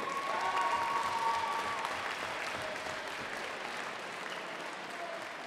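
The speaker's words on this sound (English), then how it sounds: "Ladies and gentlemen, a round of applause for these warriors." Crowd applause at a Muay Thai fight night in the Victory 10 event, a dense, steady wash of clapping from a large arena audience that swells early and holds on, slightly distant, with a few faint whistles or voices.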